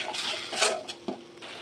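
A spoon scrapes and clinks against a pan while tomato paste and Kashmiri chili powder are stirred and fried, with faint sizzling and a few sharp metallic knocks.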